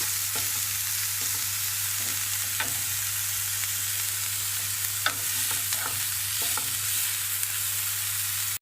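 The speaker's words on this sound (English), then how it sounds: "Now we're toasting the rice. We're mixing everything together." Rice toasts in olive oil in a pan while being stirred, a constant close sizzle broken by scattered scrapes and taps of the spoon, steady under a low hum, with no voices.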